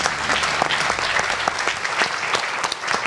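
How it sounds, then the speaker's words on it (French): A crowd at an award ceremony applauds warmly, dense continuous clapping filling the room at close range with no voices over it. "Je vous propose de les applaudir vivement, tous les 4."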